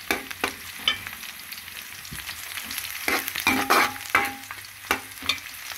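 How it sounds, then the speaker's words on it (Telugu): Onions and coriander frying with chicken in a pan give a steady sizzle, broken by repeated scraping strokes of a spoon stirring the pan. "ఉల్లిపాయలు ఈ చికెన్తో కూడా వేగుతాయి కాబట్టి."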